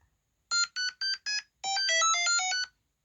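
The star jingle from a Super Mario Bros Game & Watch handheld: four short electronic beeps followed by a longer run of rapid warbling tones, thin and clear against silence.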